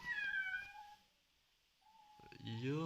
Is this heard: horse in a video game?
no